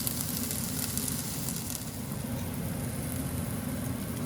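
Onions sautéing in a soup pot make a soft, even sizzle over a low background hum; the sound is steady and quiet, with no voices.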